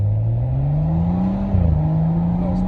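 A straight-piped BMW 335i with an N55 engine and Akrapovic exhaust drones loudly up close, the pitch climbing steadily before a brief stutter of pops and a slight dip, with no talk.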